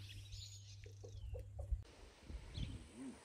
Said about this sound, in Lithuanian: Sėdim ant terasos ir žiūrim, kaip vištos auganus